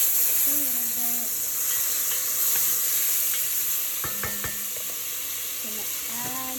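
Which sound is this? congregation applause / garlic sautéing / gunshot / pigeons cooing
garlic sautéing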